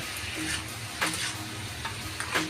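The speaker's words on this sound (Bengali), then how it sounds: "নুন দিয়ে বেশ ভালো করে নাড়াচাড়া দিয়ে ভালো করে ভেজে নেব।" Mixed vegetables and soy chunks frying in a pan, a steady moderate sizzle with periodic scraping stirs and soft clinks of the spatula.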